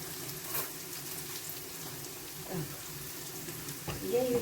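Chicken liver added to pepper and onion frying in a pan, giving a quiet, steady sizzle with a few soft clinks and stirring sounds, under low background noise.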